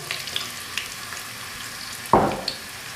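Finely chopped garlic cloves dropped into about four spoonfuls of hot oil, a sudden sizzling burst near the end after a quiet stretch of faint pan noise.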